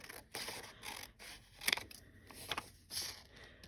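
Scissors cut apart tags made from a cardboard box with quiet, close snips and scraping in a loose irregular rhythm, several distinct cuts over a few seconds.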